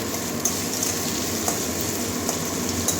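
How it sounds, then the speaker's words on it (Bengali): Salted potato pieces frying in oil in a pan for a red amaranth curry with aubergine, a dense continuous crackling sizzle with faint occasional ticks, steady and close, no voices. "একটু লাল লাল করে ভাজবো"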